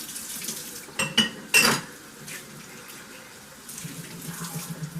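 Hot tap water running into a sink while asparagus spears are scrubbed clean, with a few sharp clatters and splashes near the start over a steady faint stream.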